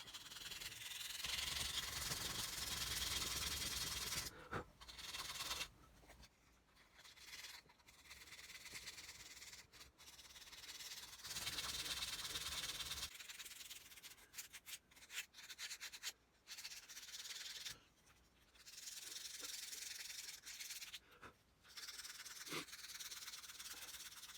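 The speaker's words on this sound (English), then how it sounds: "I'm going to be sanding it so that it's nice and smooth and round." Steady rasping of sandpaper rubbing against a carved wooden fishing lure, in long continuous strokes with brief pauses, close and fairly quiet.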